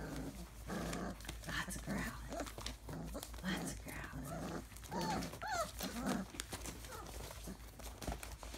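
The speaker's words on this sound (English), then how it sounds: "That's a growling." Young puppies growl and whimper as they play together in a whelping area on day 24, with small scuffles and crinkling mixed in and a person speaking nearby.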